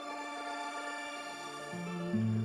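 A dark guitar loop runs through an H949 dual harmonizer using the snowfall preset, sustaining soft, shimmering layered tones that swell a little louder toward the end.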